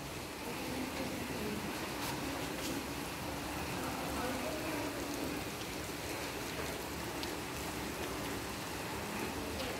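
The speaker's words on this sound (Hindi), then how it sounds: "अभी यहाँ पर तगड़ी बारिश हो रही पिछले आधे घंटे से" Heavy rain pours down in a steady, dense hiss with scattered sharper drops, continuous and fairly close throughout.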